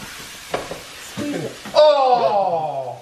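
Mushrooms and meat fry in a pan while kids cook dinner, a moderate sizzle with stirring and clatter under children's voices talking over it.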